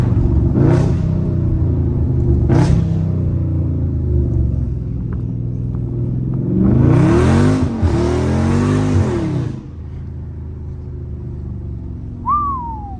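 A Dodge Scat Pack drifts through turns, its engine rumbling loud and close with rising revs, a roaring surge in the middle, then a quieter idle and a brief thin squeal at the end.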